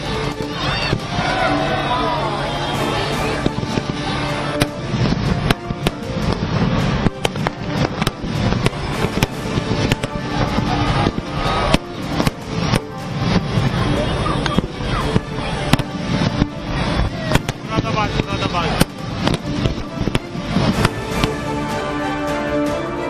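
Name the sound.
Diwali fireworks display at night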